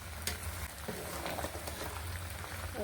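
Beef frying with turmeric in a pan over a clay stove, a soft continuous sizzle and light crackle at low volume with a faint low rumble underneath, no speech.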